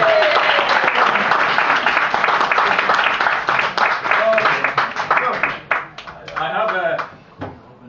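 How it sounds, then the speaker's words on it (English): A comedy club audience bursts into loud applause that gradually thins into scattered individual claps and fades toward the end. "Round of applause for yourselves."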